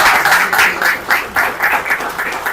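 Applause from an audience at an event, broadband clapping sustained over the whole stretch with rhythmic surges, fairly loud and close, with no talking.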